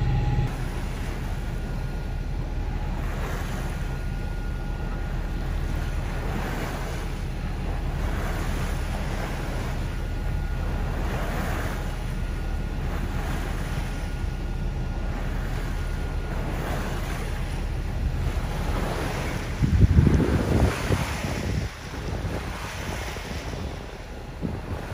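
Ocean waves wash and wind buffets the microphone aboard a sailboat at sea at night, a constant loud roar with a stronger gust or splash near the end.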